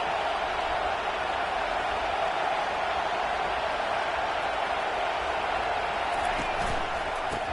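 A college football stadium crowd gives off a continuous, dense roar of cheering that stays steady and loud throughout, with no clear breaks.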